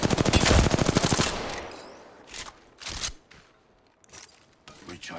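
Rapid automatic gunfire in a shooter video game opens with a loud, dense burst, then gives way to a few scattered single shots and quieter clicks.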